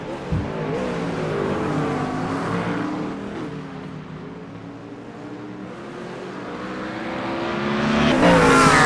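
McLaren race car engine racing at the tight Zandvoort circuit by the beaches of the Netherlands, a steady loud roar that dips mid-way and swells again as it accelerates, with no talk.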